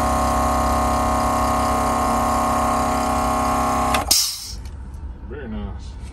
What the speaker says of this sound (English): It's a 2-gallon 18-volt air compressor.